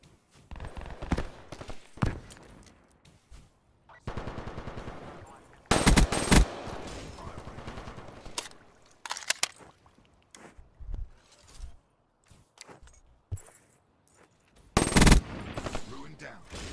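Gunfire in a first-person shooter video game, with several sharp loud bursts of automatic fire between quieter footsteps and movement, and a voice talking at times.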